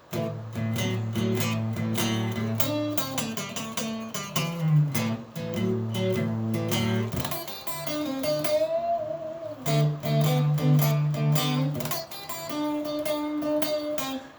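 Melodic electric guitar lines improvised on the minor pentatonic scale at a relaxed pace over a steady bass and backing groove, with sustained bent notes and short phrases, no voices.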